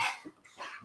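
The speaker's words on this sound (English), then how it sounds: "Just the dog." A dog gives a couple of short, faint barks nearby in a quiet room, brief and soft.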